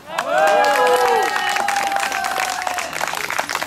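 A live studio audience at a French game show applauds and cheers for a female contestant. A loud burst of clapping and cheering continues throughout, with a sustained voice over the start and talk later.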